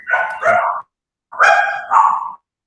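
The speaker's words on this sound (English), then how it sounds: "Sounds like Donnie's got dogs" Dog barking in two bursts, each a pair of loud, close barks separated by a short silence, with no talking.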